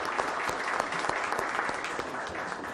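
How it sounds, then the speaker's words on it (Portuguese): A round of applause for a senator at a hearing on closing agencies, a moderate, fairly faint patter of many hands with distinct claps across the room, heard alone. "quero dar uma salva de palmas ao senador"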